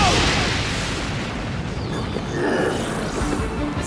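Anime explosion from Bakugou's quirk: a loud, dense roaring blast that fills the whole clip with sustained rumbling noise and crackle, steady throughout with no clear break.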